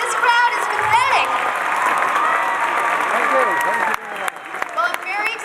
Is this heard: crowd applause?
yes